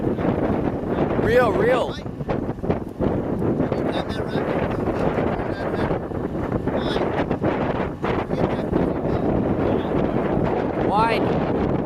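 Wind buffeting a microphone aboard a boat, loud, rumbling gusts that roar continuously throughout, with people talking over it at times.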